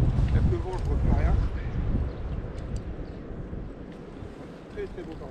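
Wind gusts beside a river in the Ardèche during feeder fishing, producing a heavy, blustery rumble against the microphone that is strongest at first and then eases, with a faint voice beneath it.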